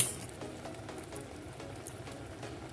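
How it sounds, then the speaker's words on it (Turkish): Blackberry jam with a little lemon juice bubbles in a pot, a soft, steady simmering patter of popping bubbles heard up close and fairly quiet, with no voices over it. "Bir 3-4 dakikada bu şekilde kaynasın."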